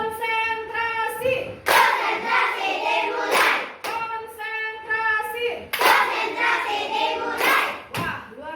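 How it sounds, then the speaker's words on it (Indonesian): A primary school class performs a rhythmic concentration clap in bursts of sharp, loud claps, with children's chanting voices between the clapping patterns. "kita lakukan tepuk konsentrasi"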